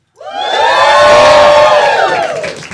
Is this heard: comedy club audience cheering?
yes